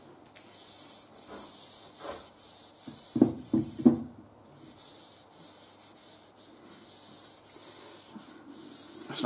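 Parting powder is rubbed by hand onto a new cannon muzzle casting tube, giving soft scratchy rubbing strokes with a few louder scuffs, over a steady high hiss in a quiet space.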